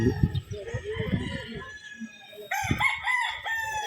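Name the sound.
stag rooster crowing, Bulik Boston cross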